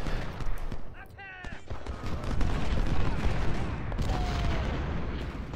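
Musket gunfire in the Ultimate General: Civil War video game during the Battle of Antietam, with rolling volleys and scattered cracks of massed infantry firing, fairly loud and continuous.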